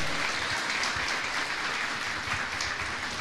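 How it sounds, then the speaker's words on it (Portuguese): Dense, steady applause from a congregation during a church sermon, continuous clapping filling the space without pause. "Aplauda Jesus Cristo"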